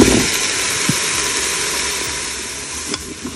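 Onions and carrots sizzling in melted butter in the bowl of a Cookeo touch wifi multicooker, a steady close frying hiss with faint stirring taps and no voices.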